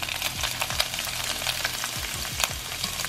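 Lobster sizzling in hot oil in a frying pan while making lobster and crab egg rolls, a loud steady crackle and hiss with small scraping stirs, close up and with no talk.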